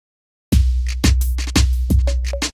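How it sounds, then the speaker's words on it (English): An African drum loop sample from a sample pack, played in Kontakt: deep booming hand-drum hits roughly every half second, layered with sharper slaps and a brief tonal ring near the end, loud and clean with no talk. "So it's just a simple drum loop."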